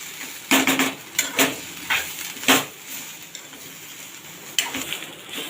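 Dry grated coconut is roasted in a pan and stirred, producing a few clustered clattering scrapes and knocks from the spatula against the pan, separated by quieter stretches.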